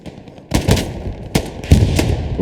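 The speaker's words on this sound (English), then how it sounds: "MG42, that's an easy kill there" Gunfire from an MG42 machine gun in the Hell Let Loose video game, with several sharp, loud bursts and single cracks over a steady battlefield rumble.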